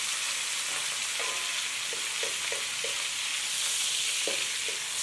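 Yellow catfish fry in hot oil with garlic chili sauce, a steady soft sizzle with a few light clicks and taps of the pan spaced through it, close and without talk.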